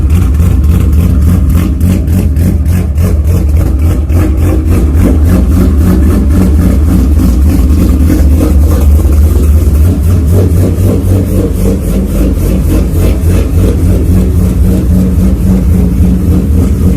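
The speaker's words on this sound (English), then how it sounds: "this tune will give your GT a much more aggressive sounding idle" A Ford Mustang GT engine with a ghost cam tune idling, close and loud, giving a steady, deep, lumpy low rumble with a slight rhythmic chop that holds throughout with no one talking.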